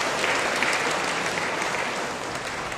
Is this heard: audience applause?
yes